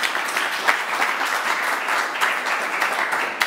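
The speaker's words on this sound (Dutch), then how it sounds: "Dames en heren, een warm applaus voor Erik." Warm applause from a conference audience at a quality-assurance event session, dense steady clapping filling the hall throughout with no voices over it.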